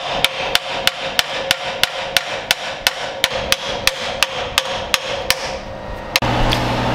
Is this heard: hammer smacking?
yes